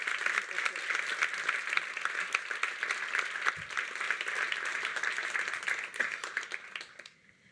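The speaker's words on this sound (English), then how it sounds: "can I get a quick round of applause for all of the volunteers?" A crowd at a web demo day event at Google headquarters gives a round of applause for volunteers, brisk dense clapping that runs steadily and then tapers off at the end.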